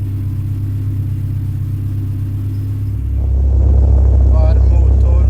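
A rebuilt engine in a SAAB 9-5 Aero RWD runs with a steady, loud low rumble. Partway through, the engine rises to a heavier, louder drone.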